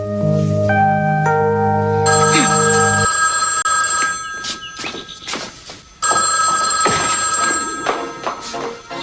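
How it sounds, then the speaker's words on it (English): A telephone rings with steady electronic tones that repeat and change pitch several times, loud and near, with some shuffling and knocking underneath. "Why didn't you answer the phone?"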